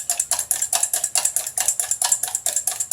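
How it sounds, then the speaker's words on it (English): A full-size whisk beats egg in a bowl, making rapid, steady metallic ticks of about six strokes a second, close and crisp with no other sound. "Take a nice full blown whisk like this and beat the egg"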